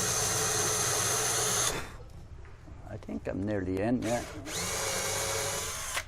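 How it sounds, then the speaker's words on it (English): A power drill bores into a wooden gusset for a trimaran sailboat build, loud whirring that cuts out midway while someone speaks briefly, then the drill starts up again and runs steadily. "And then we'll drill in as straight as we can."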